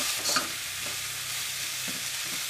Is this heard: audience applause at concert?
no